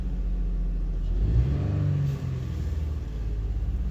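The engine of a 2005 Honda Odyssey with a throttle-response fault runs at a steady rumbling idle. It briefly climbs in pitch in a short rev, then drops back to its idle drone.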